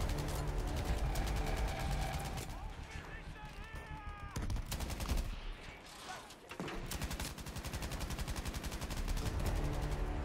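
Rapid gunfire in a Battlefield V battle, bursts of machine-gun and rifle shots crackling close and loud, pausing briefly midway before resuming, with a voice talking over it.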